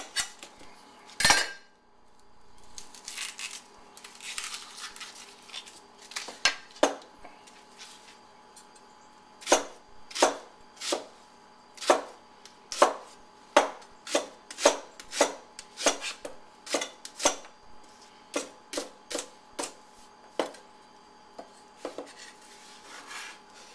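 Knife chopping fresh vegetables on a cutting board, a long series of sharp, crisp, evenly spaced taps, close and clear with a quiet background and no talking.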